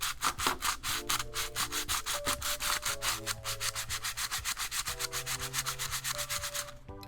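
Sandpaper is rubbed by hand over a plastic part for a pinball machine build, with rapid back-and-forth scraping strokes in a steady rhythm, close and fairly quiet.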